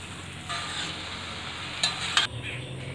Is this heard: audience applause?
no